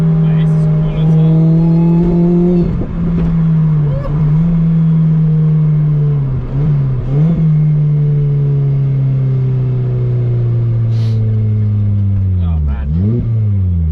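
A car accelerates hard, its strong engine note climbing and dipping through several shifts over the whole stretch, with excited voices from the passengers breaking in over it.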